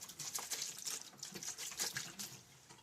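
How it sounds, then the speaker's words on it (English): Water is poured onto brass rifle cases, splashing and trickling steadily, with a bright hissing wash and faint clinking of the small metal cases underneath. "So we'll go ahead and put a little more water on that."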